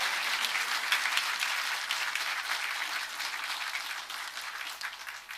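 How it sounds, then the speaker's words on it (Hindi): Convocation audience at a university ceremony applauds in a dense, continuous wash of clapping that holds steady for several seconds and slowly eases, with no speech over it. "तालियों तो बजाओ, मैं आपको बधाई दिया।"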